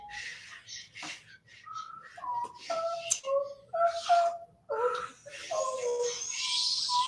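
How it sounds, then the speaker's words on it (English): A whistled tune of short, clear notes rising and falling, close by, with a breathy hiss creeping in near the end. "Who here is good at whistling?"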